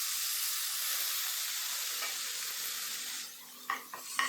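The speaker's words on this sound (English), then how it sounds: "Fry this all together until the tomatoes turn mushy." Green chilli, small onions and chopped tomatoes fry together in a pan for mint chutney, giving a steady loud sizzle that fades toward the end, broken by a few sharp stirring scrapes.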